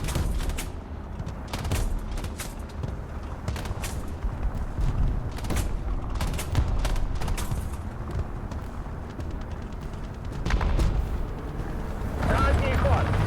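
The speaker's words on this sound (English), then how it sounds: "Shoot the main gun." The main gun of a T-34/85 tank fires repeatedly in War Thunder, sharp cracking blasts spaced through a rumbling battle din of engine noise and distant explosions.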